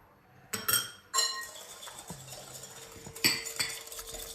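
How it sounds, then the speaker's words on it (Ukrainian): A utensil clinks and scrapes against a bowl in a few separate bursts while a pirozhki dough mixture with egg yolk and salt is stirred, with quieter gaps between. "Все хорошенько размешиваю"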